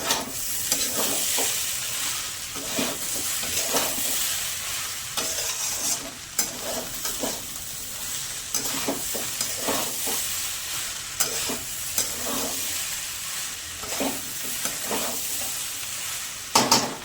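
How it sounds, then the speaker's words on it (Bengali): Rice, potato and spices frying in a pan for a Bengali muri ghonto, a steady soft sizzle broken by repeated scraping strokes of a spatula stirring, close and fairly quiet. "চাল আলু মশলার সাথে ভালো করে ভাজা হয়ে গেছে"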